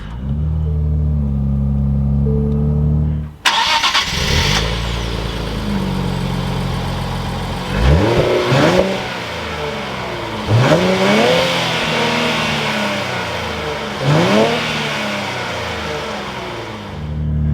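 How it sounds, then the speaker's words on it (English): A 2023 Nissan Z Performance with a manual gearbox cranks and fires up loudly. It settles into a steady rumbling idle, then gives several sharp revs that rise and fall, close and alone. "keeping my foot on the clutch, we can go ahead and fire it up"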